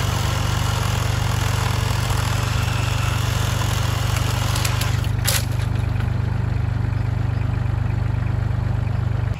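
An engine-powered string trimmer runs steadily outdoors, a loud continuous motor drone holding an even pitch throughout with no voices.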